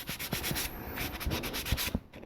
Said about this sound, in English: I'm going to do a sanding from the primer I did last night